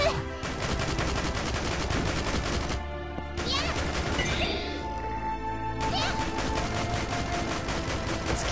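Rapid gunfire from the video game Dead or School comes in dense, loud bursts with crashing impacts, broken by brief pauses over a steady game backdrop.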